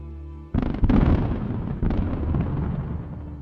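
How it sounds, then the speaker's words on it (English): A military vehicle in a Russian convoy, struck by a HIMARS missile, detonates with a sudden heavy blast, then a second thump, followed by a sustained rumbling roar as it burns. "The vehicle begins to detonate and burn fiercely."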